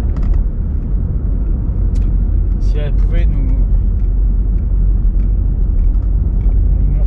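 A 2000 Volkswagen Golf 4 1.9 TDI 115 accelerating, with a loud, steady low engine and road rumble throughout and someone talking over it from inside the car.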